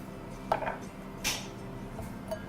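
A knife cuts an avocado in half on a board: a few faint, brief knocks and scrapes spaced apart, close and quiet.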